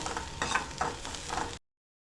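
A spoon stirs finely chopped cabbage with carrot and onion as it sautés in a pan for a sweet corn soup. Soft rhythmic scraping sits over a steady sizzle, then the sound cuts off abruptly.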